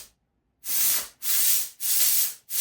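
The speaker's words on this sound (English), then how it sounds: "push this release button, and then you can see the steam coming out of the end." A handheld steam cleaner releasing bursts of steam, four loud close hissing puffs in a steady rhythm with short gaps, no talk.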